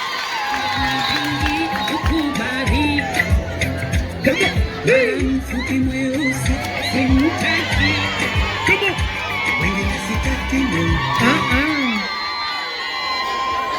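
Wedding guests at a church marriage blessing erupt in loud, sustained cheering, applause and high trilling ululation, a dense crowd noise with shouting voices throughout.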